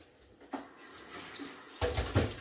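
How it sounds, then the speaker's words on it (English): Water splashes and pours in short bursts into a pot of chicken bones and bay leaves, a brief gush midway and a louder, fuller pour toward the end, close by. "now we're really just going to add enough water to cover the bones"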